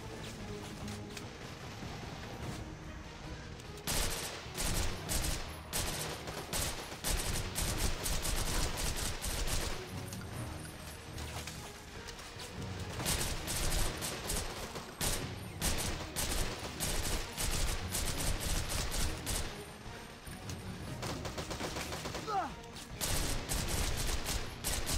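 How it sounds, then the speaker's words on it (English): Sustained minigun fire in the action video game Devil's Third, a dense, loud continuous rattle of rapid shots with brief pauses between long bursts and no talking over it. "I love these infinite ammo minigun guys."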